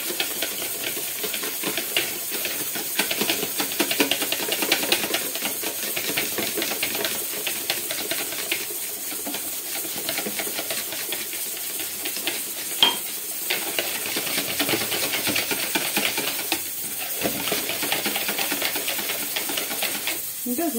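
Cupcake batter being stirred steadily in a bowl as oil is poured in bit by bit, a continuous soft scraping and swishing texture with occasional light clinks, close and fairly even throughout.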